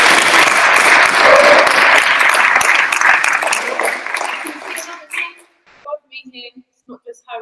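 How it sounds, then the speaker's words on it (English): A live audience at an end-of-tour finale show claps and cheers loudly for several seconds, then the applause thins into scattered claps and fades as a voice begins speaking. "I just want to give another round of applause"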